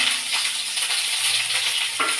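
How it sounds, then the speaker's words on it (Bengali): Dried red chili and ginger frying in hot oil for lentil curry, a steady close hiss and sizzle with a brief stirring scrape near the end, no voices. "এই শুকনো লঙ্কাটা একটু ভাজা ভাজা হতে থাক"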